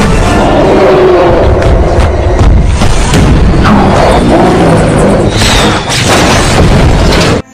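A helicopter crashes and explodes in a film scene, heard as a loud, dense rumble of booms and heavy thuds with crashing bursts that continue for several seconds before cutting off abruptly.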